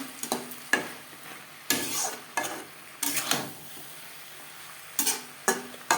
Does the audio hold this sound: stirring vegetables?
yes